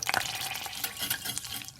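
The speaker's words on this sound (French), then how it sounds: "le beurre fond" Butter melts in a pan with a soft, close sizzle and light bubbling, plus a few brief scraping clicks from stirring, all fairly quiet.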